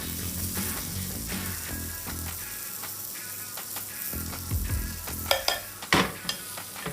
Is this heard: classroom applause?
no